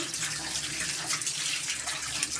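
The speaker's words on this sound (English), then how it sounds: "So make sure you wash well your eggs. Wash gently so that they don't crack." Eggs are washed under a running tap, a steady close hiss of flowing water splashing into a sink, with no talking.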